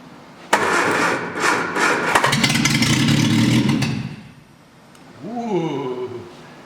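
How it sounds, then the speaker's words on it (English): 1966 Triumph Spitfire MK2 with a newly installed engine starting for the first time: a loud cranking burst catches into a rough clattering run, then fades and a voice speaks. "So I'm gonna turn the ignition on and try it."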